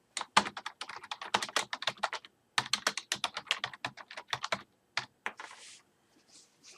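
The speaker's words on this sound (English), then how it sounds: "My bank or brokerage isn't here, so we're going to type it in" Fast, uneven typing on a computer keyboard, entering an investment firm's name into tax software; crisp, close key clicks in bursts with brief pauses and a few heavier keystrokes near the end.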